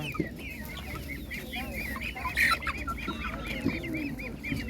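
Many chickens cluck and chatter continuously nearby at a rural farmers' market, over a low background murmur of a busy outdoor space, with one louder squawk partway through.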